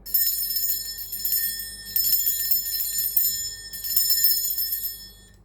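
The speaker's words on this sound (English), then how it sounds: "Now I'm going to ring the bell that I have." A handheld bell rung in a quiet room to cleanse the space, giving three bright, shimmering strikes about two seconds apart, each ringing out with a long sustained decay, fairly close and alone.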